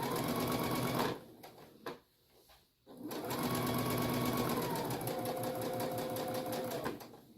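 Sewing machine stitching fabric for a face mask, running in two long steady bursts with a brief pause between, close and loud, no talking.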